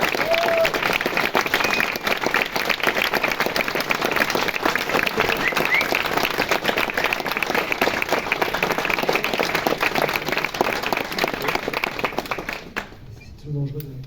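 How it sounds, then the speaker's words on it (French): A crowd applauds loudly and continuously to welcome a guest at a film screening event, dense clapping filling the room for about thirteen seconds before abruptly dying away, with some voices mixed in. "Dangereux d'applaudir avant que j'ai parlé"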